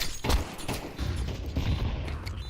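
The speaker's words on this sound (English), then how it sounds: "Flashbang." Flashbang grenade going off in the Counter-Strike video game, a sharp burst followed by a few more crackling impacts amid dense in-game noise, fairly loud and close.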